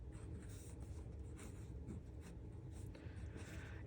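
A fountain pen with a springy nib scratches faintly across paper in short, repeated strokes, a quiet, close, papery scratching heard alone.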